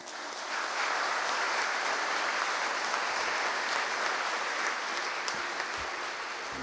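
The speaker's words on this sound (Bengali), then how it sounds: "আমরা ঈশ্বরকে ধন্যবাদ বড় হাততালি দিই।" Big round of audience applause at a church student blessing-day gathering, a broad even roar of many hands clapping that rises quickly and holds steady to the end.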